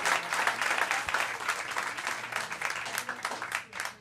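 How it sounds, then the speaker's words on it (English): A comedy club crowd at Zanies claps and applauds steadily for about four seconds, a dense, continuous patter that dips briefly near the end before picking up again. "I'm done. You can clap."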